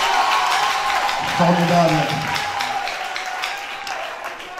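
Audience applause in a hall during a piano competition semi-final, a steady wash of clapping running through the whole stretch, with a presenter's voice speaking over it.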